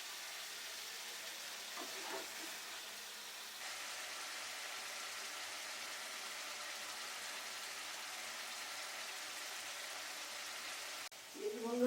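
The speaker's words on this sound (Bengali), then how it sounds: "দেখছেন কি সুন্দর পনিরগুলো ভাজা হয়ে যাচ্ছে" Paneer cubes fry in oil in a pan on medium heat, a soft continuous sizzle with a faint stir or clatter near the end.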